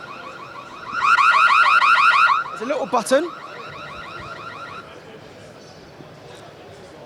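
Window sensor alarm emitting a loud, rapid warbling beep for over a second, then breaking off as someone handles it; someone talks near the end over faint background chatter of a trade-show hall.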